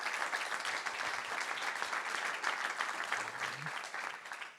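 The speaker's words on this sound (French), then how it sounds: "On vous applaudit aussi chaleureusement." Warm applause from a conference audience at a panel discussion, a sustained, even patter of many hands clapping at a distance, fading slightly at the end.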